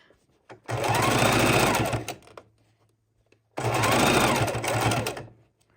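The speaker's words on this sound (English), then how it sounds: "And it is still a straight stitch." A sewing machine runs a straight stitch on a microwavable tortilla warmer in two loud, close bursts of rapid whirring, separated by a short pause.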